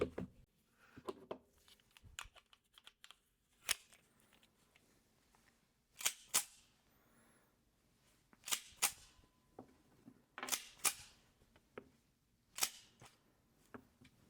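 Three primerless dummy 45 ACP rounds are hand-cycled through a 1911 pistol, giving sharp metallic clacks and slide snaps close by, spaced out in small clusters with quiet gaps between them, and no speech.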